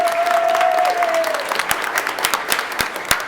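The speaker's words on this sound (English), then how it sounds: "One more round of applause," Concert audience applauding at a Hanukkah celebration in a synagogue, many hands clapping in a steady patter with a brief tone at the start, the clapping thinning toward the end.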